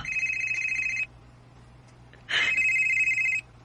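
A telephone rings in two long electronic bursts separated by a pause of about a second, clear and fairly close over a faint low hum, in a Bisaya radio drama.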